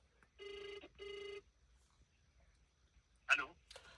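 A phone rings twice on the line during a call to a Kia service center, two even electronic rings followed by silence, then a brief voice.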